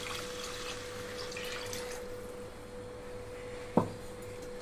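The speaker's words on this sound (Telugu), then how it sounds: "ఇక్కడ నేను వేసిన గ్లాస్ రైస్కి 2 గ్లాసుల వరకు వాటర్ యాడ్ చేస్తున్నాను." Water poured into a pot of rice for Rayalaseema-style pulagam gives a faint, steady wash over a low hum, with one sharp knock near the end and no talk.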